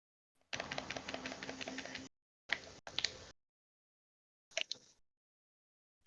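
Vape bouncing and clicking against a finger ring, a close, quiet burst of rapid dry clicks followed by a few shorter clattering bursts separated by silence.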